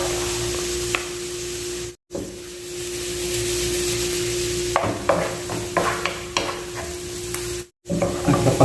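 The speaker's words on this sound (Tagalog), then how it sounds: "At kapag luto na yung ating garlic at saka yung luya natin mga ka-recipe at medyo toasted na, golden brown" Ginger and garlic fry and sizzle steadily in a hot pan, a loud, continuous crackle with brief breaks and bursts of stirring scrapes toward the end.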